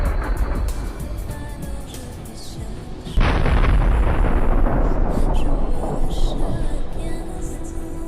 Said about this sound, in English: Once it is hit, the shells for the 125mm gun will ignite and cause a spectacular explosion.